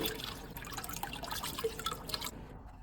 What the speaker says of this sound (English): The whole pump can be washed with water.